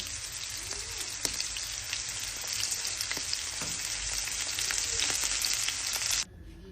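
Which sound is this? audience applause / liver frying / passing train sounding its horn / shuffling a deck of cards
liver frying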